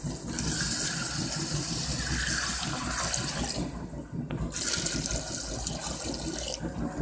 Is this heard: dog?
no